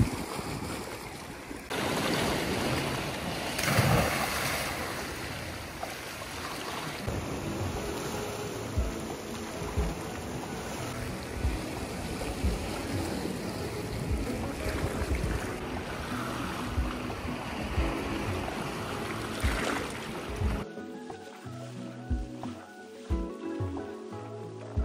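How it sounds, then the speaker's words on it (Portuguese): Choppy sea with rough, agitated waves washing and breaking continuously along the coast in Turkey, heavy wind buffeting the microphone throughout, no talk. "está um bocadinho agitado para caguinchas, mas vejam bem esta água"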